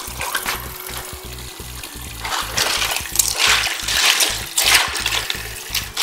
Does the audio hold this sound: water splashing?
yes